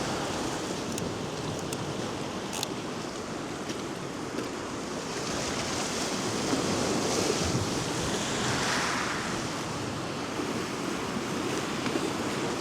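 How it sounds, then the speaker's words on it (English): Evening sea surf rushes around bare feet on a beach below cliffs, a continuous close wash of waves swelling louder midway, mixed with gusty wind buffeting the microphone, no talk. "You can hear the sea rushing around on my feet"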